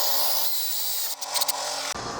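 A power drill drives a standard RV self-tapping screw during a slide-out repair on a Freightliner XC Class A motorhome. It gives a steady close whir lasting about two seconds with a brief bind near the end, and no talk.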